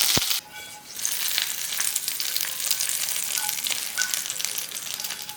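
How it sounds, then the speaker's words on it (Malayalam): Mustard seeds, two red chillies and curry leaves hit hot coconut oil with a sharp clink, then a steady crackling sizzle with small pops runs close and alone. "എണ്ണ ചൂടാകുമ്പോൾ കടുക് ഇട്ട് കൊടുക്കാം. 2 ചുവന്ന മുളകും കുറച്ച് വേപ്പിലയും ചേർക്കുന്നുണ്ട്."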